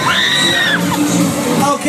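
A crowd of riders screams, yells and whoops aboard the aTmosfear fairground ride in Hull, 2012. The sound is loud and continuous, with shrill cries rising over a dense wash of voices.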